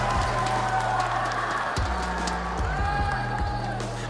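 A large live crowd roars and cheers at a Fortnite Reload championship esports event at EWC, a steady, dense wash of noise mixed with arena sound and tones.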